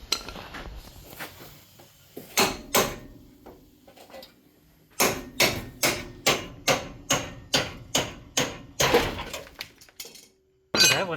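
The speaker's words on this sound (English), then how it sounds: "Yeah, hammer it in." Hammer blows driving a part into a Crown Victoria sub-frame being fitted to a 1968 Cadillac hearse: loud metallic clanks, a few scattered strikes, then a fast, even run of about a dozen close hits.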